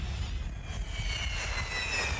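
A jet-powered drag racing car's engine roars continuously at a track, a loud, steady turbine rush with a broad hiss and rumbling low end, no pauses.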